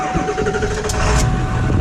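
A Ford 7.3L Power Stroke diesel truck engine runs close by with a dense, rough rumble and steady low chatter that swells slightly partway through.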